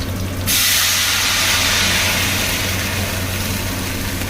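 Simmered sauce poured into a hot pan of vegetables for Thai soy-braised medai fish, bursting into a loud, steady sizzle with steamy hiss that holds for several seconds.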